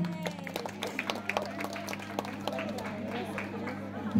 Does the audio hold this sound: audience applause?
yes